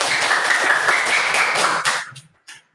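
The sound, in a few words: class clapping a spirit clap together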